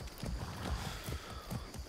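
Horse galloping in Far Cry 6: rhythmic hoof thuds repeat in quick beats, near and moderately loud, for about two seconds.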